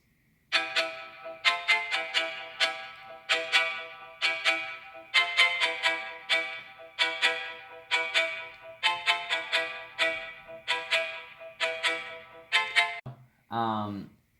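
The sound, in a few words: bright pluck string synth melody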